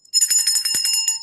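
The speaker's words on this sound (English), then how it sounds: "Here's the bell." A small bright bell rings rapidly in a quick run of metallic strikes in an office setting, with a brief low thump partway through.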